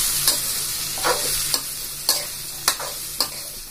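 Raw mango pieces with fennel seeds stirred in a pan on a gas flame, about six evenly spaced scraping strokes over a steady sizzle, close and clear, no talking.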